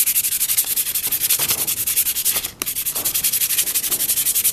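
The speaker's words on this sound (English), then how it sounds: "It's a bit rough, which means, sadly, sanding." Steady back-and-forth hand sanding of a rough welding mask handle, a close, continuous rhythmic rasp with one brief pause partway through.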